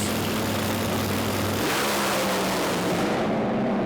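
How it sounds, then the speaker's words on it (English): A drag racing dragster running on big Goodyear slicks at full throttle, a loud, roaring engine blast that shifts pitch partway through and stays intense to the end. "that big Goodyear slick on Phil Reid's dragster"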